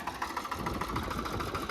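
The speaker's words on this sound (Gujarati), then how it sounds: "ટ્રેક્ટર હાલે એકલો ઓટોમેટિક છે ભાઈ સિસ્ટમ" A mini tractor engine runs at a steady idle nearby, with a low, even mechanical chug and rattle that continues throughout with no speech.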